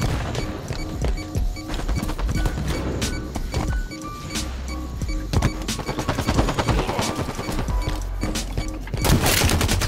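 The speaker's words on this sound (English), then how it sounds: "I'm a beast with this pistol." Rapid pistol gunfire in the Halo video game, a dense run of sharp, loud shots with crashing impacts, continuing without a break through the whole stretch and no talk over it.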